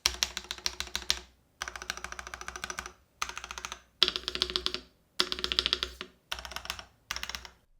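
Typing on a Varmilo Miya Pro mechanical keyboard, with dense, even clacking keystrokes in seven bursts separated by short pauses, close and clear with no voices.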